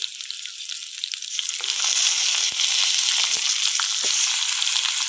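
Katla fish heads frying in a pan with lightly fried onion, garlic and split green chillies, a loud continuous sizzle that swells and stays dense, with small pops and crackles.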